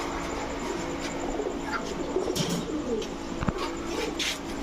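Chuithal pigeons, a brown-necked pair kept with other loose pigeons, coo softly under a steady background hum, with a few brief louder calls and a sharp knock midway; nobody speaks.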